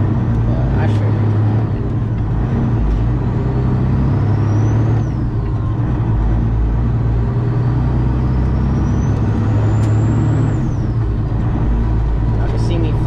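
A truck's engine drones low and loud as the driver works through the gears, with rising and falling pitch sweeps as it revs, while someone talks over it.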